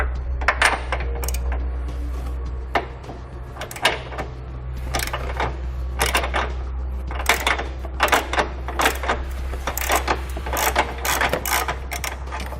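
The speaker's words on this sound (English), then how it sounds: "there'll be a large nut located at the back you're going to need to remove with a 30mm socket" A socket wrench with a 30mm socket loosening a large tow hook nut on a 2018 vehicle, repeated metallic ratcheting clicks and clinks in irregular bursts over a low steady hum, close and fairly loud.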